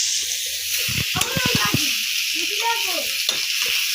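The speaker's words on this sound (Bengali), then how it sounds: "দেখো গাজর, বটবটি আর আলু সব কিছু দিয়ে রান্না হচ্ছে" Carrots, beans and potatoes cooking together in a pot, making a steady, close sizzling hiss throughout while a person talks over it.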